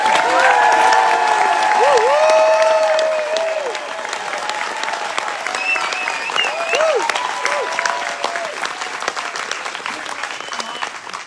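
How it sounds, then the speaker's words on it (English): A theatre audience at the Thameside Theatre in Grays breaks into loud, sustained applause with cheers and whistles, the clapping dense and close at first and then easing slightly but carrying on throughout. "please give Mark a round of applause and a cheer"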